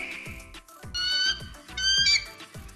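An eagle lets out harsh, squawking screeches in two or three drawn-out bursts, clear and near, with a low rhythmic beat running underneath.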